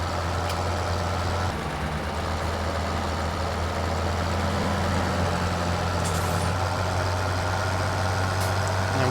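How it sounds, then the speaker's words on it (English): Tractor fitted with front blades driving along in Farming Simulator 17, a steady low diesel engine drone, close and continuous at an even loudness, with no talk. "A maniac with a bunch of blades on the front of a tractor is coming through."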